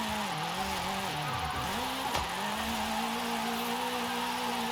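A Volkswagen Golf with an EA888 engine, built as a rear-wheel-drive drift car in Forza Horizon 5, revs in steady rising and falling sweeps, a continuous close game engine drone.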